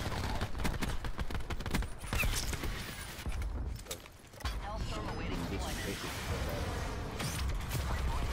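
Nine-bang stun grenade thrown in Black Ops 4, a quick run of sharp bursts and clatter tangled with gunfire and game noise, with a player talking over it.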